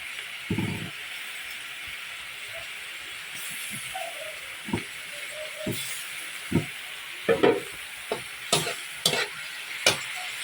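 Tofu and chicken cubes fry in a pan under a steady soft sizzle, with a series of short scraping and clinking stirs from a utensil at irregular intervals, close and moderately quiet.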